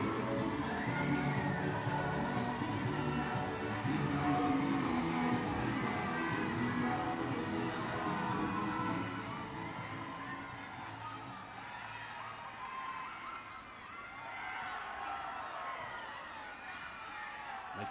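A packed rugby crowd of Naitasiri fans at Ratu Dakombau Park roars continuously for a Skipper Cup match against Nadroga, a dense wash of cheering and shouting with children's voices, loud throughout and easing slightly midway.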